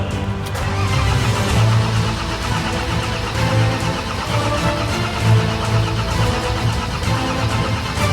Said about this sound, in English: we kept cranking it over, we kept trying to bleed it, nothing was coming up whatsoever at all